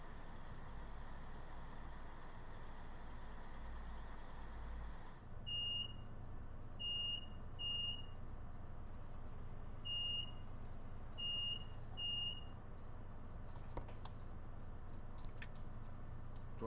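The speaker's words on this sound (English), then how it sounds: "We heard the beeping, but I thought that was something to do with the train doors closing for a second." Inside the cab of a JT Voyager train in a train simulator game, a continuous high electronic tone sounds alongside short repeated beeps over a low engine rumble, starting partway through and running for about ten seconds.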